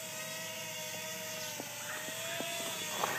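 Blade Nano QX micro quadcopter flying and heading in to land, giving a steady high-pitched whine that holds throughout, with a few brief ticks and clicks on top and no talking.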